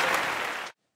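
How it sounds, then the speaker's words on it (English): Audience applause on a talk show fills the first three quarters of a second as a dense, loud burst of clapping, then cuts off abruptly to silence. "let's all give Rosalita a round of applause again"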